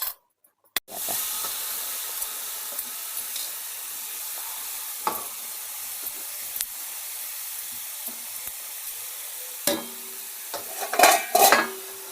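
Ghee sizzling in a pan as carrot halwa is stirred, a steady soft frying hiss with occasional scraping and clinks of a spoon against the pan, louder bursts of sizzle near the end.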